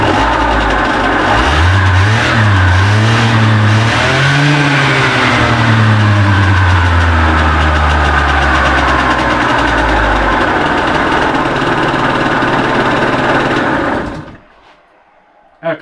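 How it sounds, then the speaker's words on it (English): An old two-stroke motorbike engine with a noisy crank runs loud and close, revving up and down before settling into a buzzing rattly idle, then cuts off near the end. "We have a running 2-stroke."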